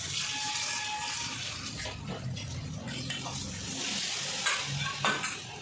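Meat cooking with a special masala hisses and bubbles as a splash of water goes into the pan, a continuous close sizzle with stirring scrapes and a couple of brief clatters near the end.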